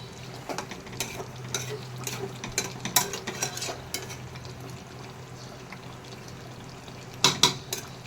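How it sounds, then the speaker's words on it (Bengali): Chicken pieces are stirred and braised in a pan with no water added, giving a steady low sizzle broken by scattered scraping clinks of a spatula against the metal pan, with a sharper clatter near the end. "মুরগি কষানোর মধ্যে এখন কষাইতেছি আগে ভালো করে, কোনো জল দিই নাই"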